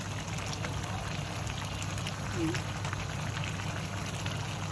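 Lamb chop pulao rice and water boil in a pot, a steady close hiss of bubbling liquid that runs unbroken and fairly soft throughout.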